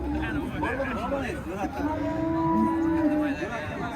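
A young bull lows at a Bukhara livestock market, with long drawn-out moos rising and falling over several seconds, close and loud above a background of crowd babble and people talking.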